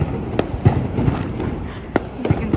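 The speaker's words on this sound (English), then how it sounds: "we're going to have a fireworks display" Daytime Fallas festival fireworks in Valencia crack and pop in scattered sharp bangs of varying loudness over a rumbling crowd background.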